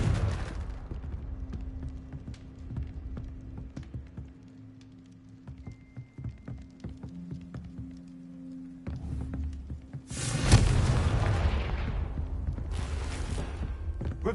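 Confringo fire spell in the Hogwarts Legacy video game bursting into a sudden broadband blast that swells and crackles for several seconds after a quieter stretch of ambient game sound.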